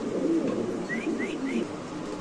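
Pigeons coo close by in a short run of soft, low, rolling calls, three or four in quick succession, with a few faint higher chirps above them and a bit of background murmur.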